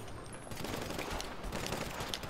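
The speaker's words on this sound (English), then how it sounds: "I literally have to shoot these guys like 30 times to kill them" Sustained rapid gunfire while shooting at enemies in a GTA game, a dense unbroken stream of shots for a couple of seconds, loud and steady with no talking.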